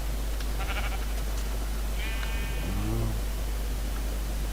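A single Minecraft sheep bleats midway, wavering and fairly clear, over a constant low electronic hum.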